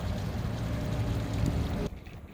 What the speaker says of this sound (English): Here is the water coming from the sump pump.